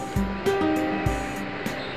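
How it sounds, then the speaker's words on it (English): A blender whirs as it purees fresh chili, onion, garlic, a bouillon cube and water into a fine paste, its steady motor hum broken by a few rhythmic surges, with no talking. "Then blend it"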